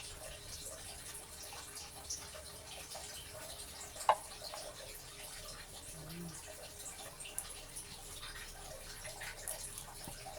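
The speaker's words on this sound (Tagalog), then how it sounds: "lagay na natin si gatas" Milk trickles faintly into an ice candy mix with fruit cocktail, a soft continuous liquid pour with a small splash or two, close but quiet.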